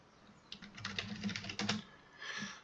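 Fast bursts of typing on a computer keyboard, close and fairly quiet, with rapid key clicks and short pauses and no talking.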